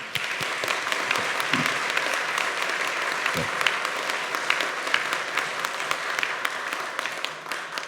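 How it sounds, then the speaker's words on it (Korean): A church congregation breaks into sustained applause during a Sunday service, dense clapping from many hands held at an even level for several seconds. "이를 위해 CBS를 위해 격려의 박수 보내겠습니다."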